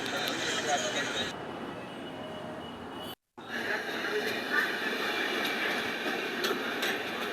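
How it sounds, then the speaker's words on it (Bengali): The Jogbani Kolkata Express pulls out of Bolpur Shantiniketan railway station. Its steady rumble and wheel clatter fill the clip, broken only by a very short gap. "আমাদের ট্রেন বোলপুর শান্তিনিকেতন রেল স্টেশনে 3 মিনিট হল দেওয়ার পর ছেড়ে যাচ্ছে এখন"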